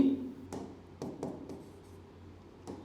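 Chalk or marker strokes on a classroom board during a physics lesson, a handful of short scratchy taps spaced irregularly, close and fairly quiet.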